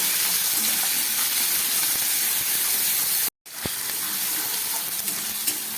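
Chopped onion and tomato dropped into hot oil for a fish curry, giving a loud, steady hissing sizzle that cuts out briefly for a moment, then resumes just as strongly.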